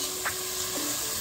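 Onion and garlic sautéing in a pan, giving a soft, steady sizzle close by with a couple of faint utensil scrapes and no talking.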